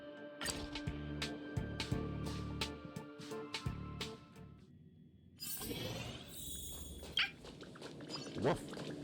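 Peppy, a dog in the video game Honkai Star Rail, barks in a few short, sharp bursts over the game's background sounds, with voices talking.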